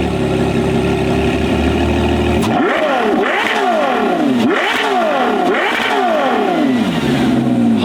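A Ferrari Daytona engine blips through repeated hard revs during an exhaust sound level test, rising in four or five sweeping surges after a steady idle, loud and close with no talking.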